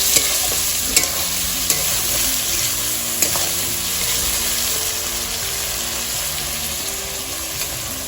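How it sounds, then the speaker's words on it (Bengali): Onions fry in a pan until reddish-brown, with a steady, close sizzle and periodic scraping knocks as they are stirred. "পেঁয়াজটা লাল লাল ভাজা হয়ে গেছে।"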